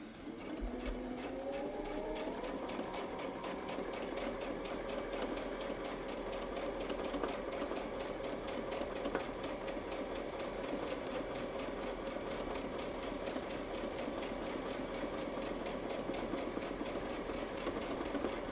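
Sewing machine stitching a Spinefex quilt block with a Westalee ruler, a steady close motor hum and rapid needle chatter starting up and running continuously with no pauses.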